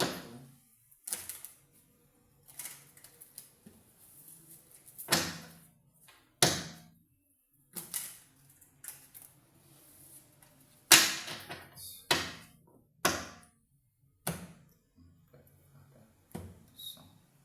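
A deck of cards is shuffled close by in a series of short riffling bursts and sharp taps, each trailing off quickly, separated by quiet pauses and with no speech.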